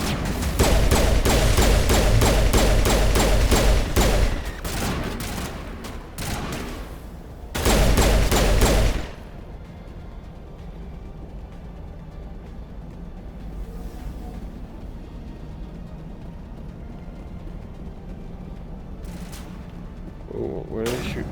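Loud rapid gunfire bursts from Mass Effect Legendary Edition rattle in two sustained volleys, then give way to quieter combat ambience and scattered distant shots.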